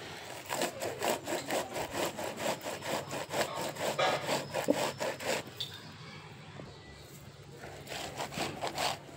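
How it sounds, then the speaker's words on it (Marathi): A corn cob grated finely on a hand grater, giving a fast, even run of rhythmic rasping strokes up close, then a brief pause before a few more strokes resume. "तर पहा, एक कणीस मी पूर्ण असं खिसून घेतलंय बारीक"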